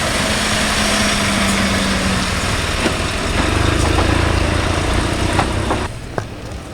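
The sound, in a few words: heavy tow truck engine idling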